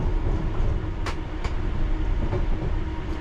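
A London Underground Piccadilly Line 1973 stock train runs steadily at low speed with a continuous loud rumble, a few sharp clicks and rail clacks standing out over it.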